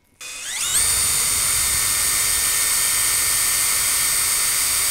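Makita power drill boring a 2 mm hole for model railway shed lighting: a close, high whine spins up within the first second and then holds a steady, loud pitch to the end.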